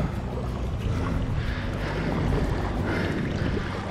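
A kayak out on the river at Ballina where it meets the Pacific, with steady wind buffeting the microphone and a constant broad wash of water and air throughout.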